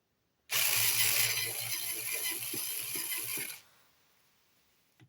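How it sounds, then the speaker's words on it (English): A power screwdriver whirs continuously for about three seconds, removing bolts from an M.2 drive heatsink on a Samsung 990 PRO NVMe, close and loud, then cuts off, leaving faint handling sounds. "we're going to put a screwdriver here"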